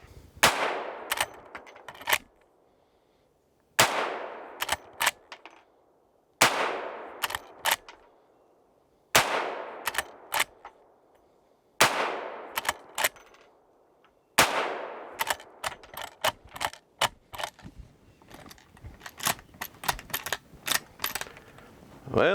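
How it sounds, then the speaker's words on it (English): Henry Big Boy lever-action rifle fired outdoors, sharp loud shots roughly every two to three seconds with the clack of the lever cycling between them, ending in a quicker cluster of metallic clicks. "I really like shooting the lever action guns there."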